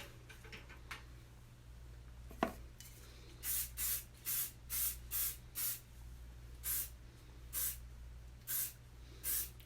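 Hairspray sprayed onto hair in about ten short hissing bursts in a steady rhythm, close and fairly loud over a low background hum.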